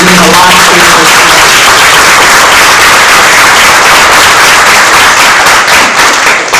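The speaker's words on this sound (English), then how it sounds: "So let's give them a round of applause." Audience applause at the 2021 Champions of Change awards event, a dense, loud, continuous wash of many hands clapping that holds steady through the whole stretch with no break.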